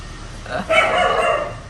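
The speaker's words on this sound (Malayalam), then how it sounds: "പട്ടികൾ കുറച്ചോണ്ടിരിക്കുന്ന ബാക്ക്ഗ്രൗണ്ടില്" A single short dog bark rings out at a distance over a quiet background.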